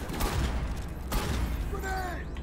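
Rapid gunfire in a boss fight against Cerberus in Mass Effect 3, dense overlapping bursts of shots and impacts filling the whole moment at close range, with battle noise throughout.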